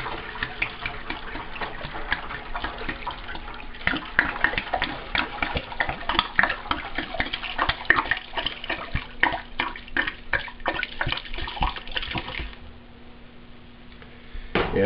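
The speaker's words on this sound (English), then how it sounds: "And pour in your mash." Corn mash is poured through a colander into a still, giving a continuous close splashing and trickling with small ticking impacts for about twelve seconds before thinning to a quieter drain.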